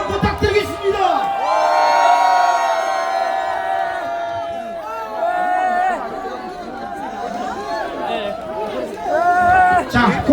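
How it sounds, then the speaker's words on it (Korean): A large outdoor rally crowd in Gokseong cheers, whoops and shouts in a sustained roar that swells and dips, with many voices clamoring together. "다시 한번 함성 부탁드리겠습니다."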